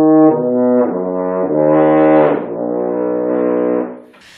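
A French horn plays warm-up arpeggios, sustained rich tones stepping up and down through a few connected phrases, loud and close, alone with no talk.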